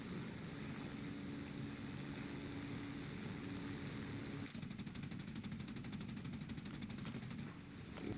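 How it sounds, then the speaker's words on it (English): Machine guns of a P-63 Kingcobra fighter firing in an air-combat video game, a rapid continuous burst of rattling shots starting midway over a steady aircraft engine drone. "Selecting the machine guns."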